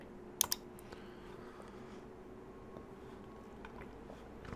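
Two quick computer mouse clicks near the start, followed by faint, sparse keyboard tapping over a steady low room hum, quiet and close with no speech.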